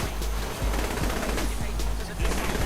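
Rapid automatic gunfire in Saints Row The Third, loud bursts of close shots cracking in quick succession over a dense rumbling game background.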